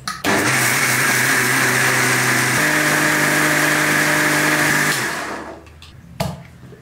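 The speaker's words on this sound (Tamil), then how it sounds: "ஊற்றிட்டு நம்ம மிக்சி ஜார்லேயே போட்டு அரைச்சிக்கலாம்." Kitchen mixer grinder whirring loudly as it grinds soaked millet into idli batter, a steady high motor whine whose pitch shifts partway through, then winding down and stopping, followed by a brief clunk.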